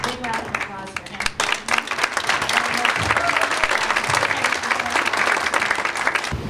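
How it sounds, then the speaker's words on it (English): Audience applause at a Sandia Hall of Fame 2019 event, loud, steady clapping from a full room that swells after a brief start, with some voices mixed in. "a big round of applause for him"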